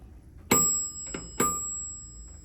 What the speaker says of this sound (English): I'm gonna go outside, ring the bell.